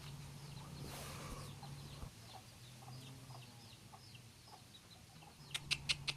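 Backyard Bangkok chickens clucking softly at a distance over a low steady hum, with a few sharper, louder calls near the end.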